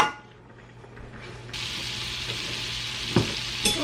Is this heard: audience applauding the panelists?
no